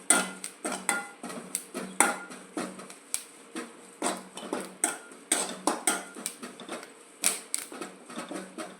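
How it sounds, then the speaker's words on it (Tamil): Curry leaves fry on their own in a pan while a metal spatula clatters against it in quick, rhythmic taps and scrapes. The sound is close and fairly loud, with no voices. "இந்த கருவேப்பிலையும் தனியாக நம்ம வறுத்து எடுத்துக்கிறோம்."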